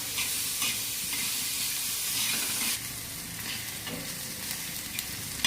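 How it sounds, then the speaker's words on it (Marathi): Onions frying in oil for egg bhurji, stirred constantly, giving a loud hissing sizzle that drops and shifts as the spoon moves them around the pan, with no one speaking. "हे बघा असं कांद्याला आहे ना सारखा हलवत जायचं"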